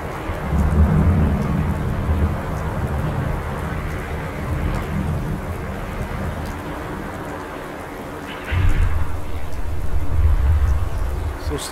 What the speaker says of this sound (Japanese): あいにく雨が降ってきちゃいましたけど